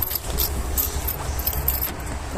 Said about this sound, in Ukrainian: До автомобіля є два ключі.